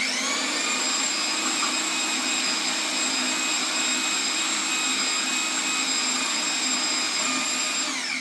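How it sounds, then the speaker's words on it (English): Food processor chopping two cups of basil leaves for pesto, a steady loud motor whir with a high whine, running continuously for several seconds with no speech. "So we put the 2 cups of basil into the food processor, and we're going to start, and we're just going to chop it up for a little while."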